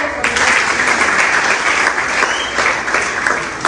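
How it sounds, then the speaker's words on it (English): A crowd at a political party presidential primary in Abuja claps loudly and continuously, dense sustained applause throughout. "Please, a round of applause."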